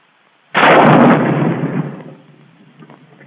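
A bazooka rocket launcher fires once in a 1943 army training film, a sudden loud blast with a roaring rush that decays over about two seconds.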